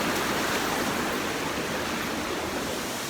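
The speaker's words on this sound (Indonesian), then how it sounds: "di sini ada sedikit air terjun kecil gitu" Steady, full rush of a small waterfall and stream at Tukad Cepung in Bali, a constant close broadband roar of splashing water with no pauses.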